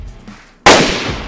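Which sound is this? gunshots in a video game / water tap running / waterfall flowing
gunshots in a video game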